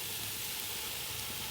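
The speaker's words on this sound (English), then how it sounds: "so I'm frying it together" Quiet, steady sizzling of crayfish, pepper and onions frying together in a pan, a soft continuous hiss with no voices.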